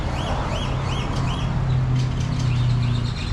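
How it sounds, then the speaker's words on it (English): Many birds chirp and tweet at once in a busy, layered chorus, with a low steady hum running underneath. "lots and lots and lots of birds."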